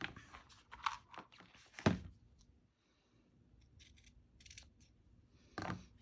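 Scissors cut craft material for a Christmas shaker journal with a few short, close snips, then quiet handling and faint rustling before one more sharp cut near the end.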